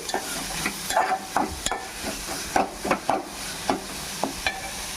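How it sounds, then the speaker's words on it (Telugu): Ginger garlic paste frying in a pan, with steady close sizzling and repeated scraping stir strokes at an uneven rhythm, no voices. "అల్లం వెల్లుల్లి పేస్ట్ కూడా వేసాం కదా, ఇది కొంచెం పచ్చివాసన పోయేదాకా ఫ్రై చేసుకుందామండి"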